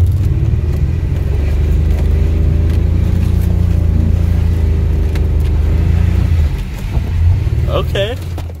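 A BMW E36 rumbles loudly up close with a steady engine drone as it slides, and a brief tire squeal near the end while people talk over it.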